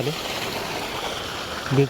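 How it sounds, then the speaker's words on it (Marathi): Irrigation water flows steadily through a channel in a sugarcane field during summer, a continuous broadband rush that holds level for the whole stretch with no break. "शेवटचं दाराला पाणी चालू आहे."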